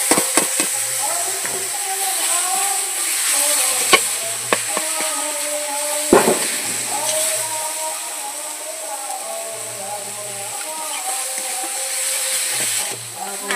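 Chili powder sizzling in a pan with a tomato and eggplant paste for a mashed eggplant dish, a steady frying hiss with stirring scrapes and a few sharp utensil knocks, broken by short low tones.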